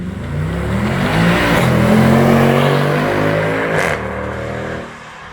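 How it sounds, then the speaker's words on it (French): A Mercedes C63 with a V8 engine revs hard outdoors in the rain, a loud sustained roar with rising and falling pitch that drops off abruptly near the end. "je suis quand même descendu de la voiture pour vous faire entendre le V8 de la C63 de l'extérieur."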